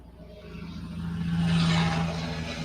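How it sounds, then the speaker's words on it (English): A loud truck passing by outside, a rising engine rumble and roar that builds to a peak and begins to fade. "that was a loud truck"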